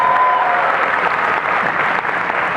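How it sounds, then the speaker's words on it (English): A large convention crowd at a Friday night costume contest applauds a contestant, a loud, continuous roar of clapping that holds steady throughout. "One more time, round of applause for Amber."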